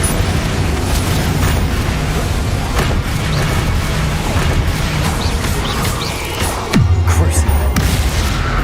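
Incendio fire spell cast in the video game Hogwarts Legacy, a loud continuous roaring, crackling blast with repeated bursts and a deep booming swell near the end, no talk.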